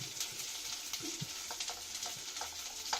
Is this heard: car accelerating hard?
no